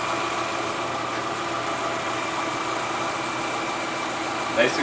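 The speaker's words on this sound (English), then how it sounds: "Engine sounds great." Subaru EJ25 boxer engine idling in a 2006 Forester, a smooth, even, quiet rumble holding steady throughout with a faint mechanical hum and a brief bump near the end.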